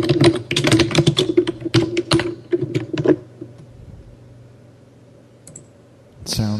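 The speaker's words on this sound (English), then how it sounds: "It sounds like a Logitech keyboard." Typing on a Lenovo computer keyboard: a rapid run of close, clattering keystrokes for about three seconds, then a quiet stretch of low hum, ending with a few louder clicks.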